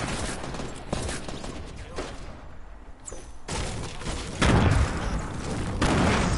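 Gunfire from a sniper or hunting rifle in an online PS4 shooter, several sharp broadband reports spread irregularly among clicks and mechanical game noise, moderately loud with one heavier boom near the end.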